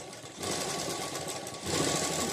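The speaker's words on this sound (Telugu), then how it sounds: "దీని కార్నర్కి ఒక కుట్టు వేసేసుకోవాలన్నమాట" Sewing machine stitching the corner of a blouse cloth, a close, steady buzzing run of needle strokes that grows slightly louder near the end.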